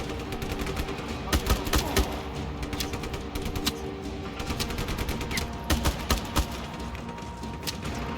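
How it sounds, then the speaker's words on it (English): Gunfire in Just Cause 3 while the player runs backwards: repeated bursts of shots in uneven clusters over a steady game soundscape, loud and close, with no talking. "Shooting while running backwards."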